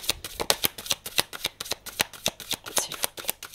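Tarot cards are shuffled by hand in quick, rhythmic riffles, a close series of crisp flutters repeating about three times per second, with no talk over them.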